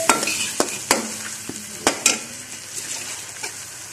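Ground tomatoes hit hot ginger and garlic in a pan, bursting into loud sizzling and frying with sharp crackles and stirring clatter, then settling into a softer steady hiss.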